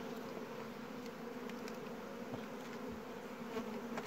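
Many honey bees buzz around a hive during open feeding, a dense and steady drone that goes on without a break and is heard alone with no talk.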